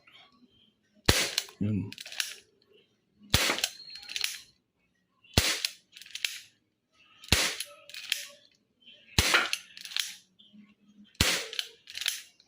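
An XYL 357 Python gel blaster toy revolver fires six sharp, snappy shots, evenly spaced about two seconds apart, each followed by a brief rattle, with a short spoken word near the start.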